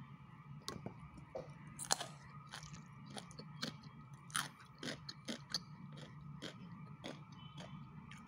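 Close, crisp crunching of crunchy stir-fried vegetables, served alongside pink salmon with garlic leaves, being bitten and chewed, with a dozen or so sharp bites and chews spread evenly across the stretch and no talking.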